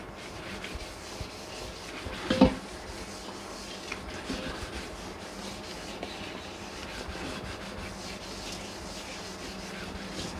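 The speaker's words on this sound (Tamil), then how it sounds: "கொஞ்சம் இந்த ஸ்க்ரப்பரில் வச்சு நல்லா தேய்க்கணும்." Steady abrasive rubbing and scraping of a scrubber against a brass vessel, continuous and close, with one brief louder knock partway through.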